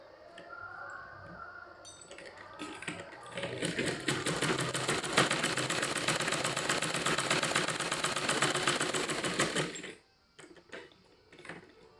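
A sewing machine stitches the lower hem of a petticoat in one steady, fast whirring run of about eight seconds. Quieter handling sounds come before and after it.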